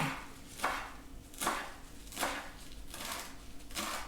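Knife chopping fresh cilantro on a cutting board for keto pork tacos, about five evenly spaced crisp chops close by, with a quiet room hum between strikes.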